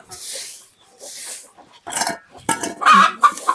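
Free-range village hens on a poultry farm, one clucking loudly and insistently as if ready to lay, in a few close bursts with broadband scratchy rustling between calls.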